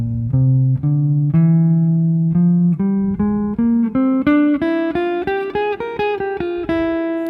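A clean jazz guitar plays a steady, single-note Lydian flat 7 line, each note distinct and ringing, climbing gradually higher over several seconds with no voices.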